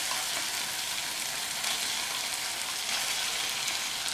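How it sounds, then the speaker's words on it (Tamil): Steamed kozhukattai dumplings frying in a tomato-onion masala: a loud, steady close-up sizzle and hiss that runs without pause, with faint stirring. "இப்போது இந்த வேக வச்ச கொழுக்கட்டைகளை இதில் சேர்த்துடலாம்."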